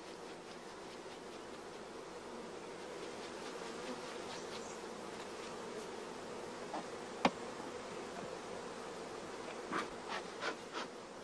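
Honey bees buzz steadily around hive frames during queen rearing, a dense continuous drone at moderate level with a few sharp clicks and knocks from the frames toward the end.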